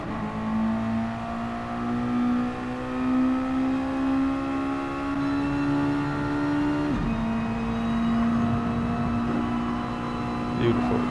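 Mazda MX-5 (BBR MX5) race car engine at full power in Gran Turismo Sport, a loud sustained whine climbing steadily in pitch, dropping sharply at an upshift, then climbing again.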